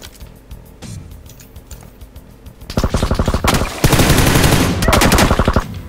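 Rapid automatic gunfire in the battle-royale game PUBG, starting as lighter distant bursts and swelling into loud, close, sustained rattling fire in overlapping volleys.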